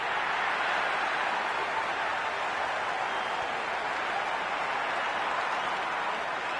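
Crowd in the Cricket 26 video game, a steady broad roar of cheering and applause that holds at an even level throughout.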